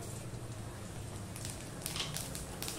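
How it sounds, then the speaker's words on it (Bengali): A split dried red chilli and panch phoron crackle faintly in hot mustard oil, a quiet, continuous fizzing spatter with a few sharper pops near the end. "দিয়ে দিচ্ছি আমি সর্ষের তেল, দিয়ে দিলাম একটা শুকনো লঙ্কাকে দুভাগ করে দিয়ে দিলাম একটুখানি পাঁচফোড়ন"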